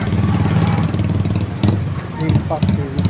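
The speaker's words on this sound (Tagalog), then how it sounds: "May motor pala na umaakyat." A motorcycle climbing a mountain road near Wawa Dam in Montalban, Rizal, its engine droning steadily, nearby and fairly loud, with the pitch shifting as it labors up the slope. A person talks over it.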